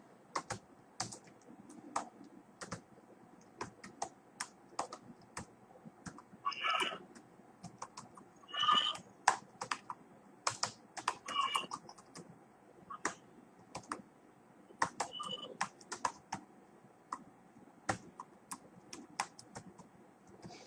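Fingers type on a computer keyboard nearby, producing quiet, irregular bursts of key clicks with short pauses between runs, over a faint room hum with no talking.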